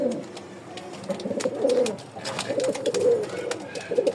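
Male giribaz pigeon cooing close by, a run of low, throaty rolling coos repeating in a loose rhythm, with faint background chatter and a few soft clicks.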